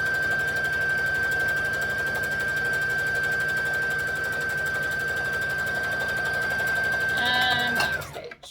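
A sewing machine stitches a seam at a steady, fast whirring rhythm, then briefly reverses for a backstitch before stopping; the machine sound is close and continuous with no talking.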